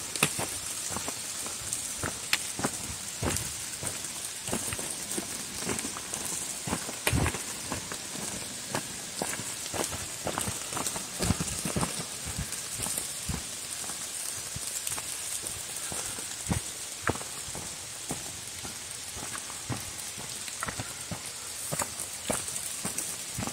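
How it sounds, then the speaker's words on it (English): Light rain falls steadily through leaves in a dark forest on the Appalachian Trail in New Jersey, with scattered sharp drips and crackles over a soft, constant hiss. "Nice coverage, nice dark forest, peaceful sounding rain."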